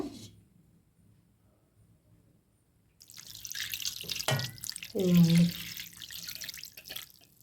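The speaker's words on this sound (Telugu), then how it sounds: "ఇది కూల్ వాటర్ తోటి ఒకసారి కడిగేసుకుందాము" After a quiet start, water splashes and runs with wet squelching and dripping, fairly close, with no talking, as fresh paneer in a cloth is rinsed under cool water.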